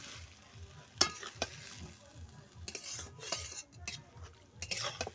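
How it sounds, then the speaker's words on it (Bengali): Lote fish is stirred in hot frying oil in a pan. Soft sizzling runs under intermittent scrapes and clinks of a utensil against the metal, close and fairly quiet, with no talking. "দেখুন এখন আমি সম্পূর্ণ মাছটা তেলের মধ্যে ভালোভাবে মিক্সড করে নিচ্ছি"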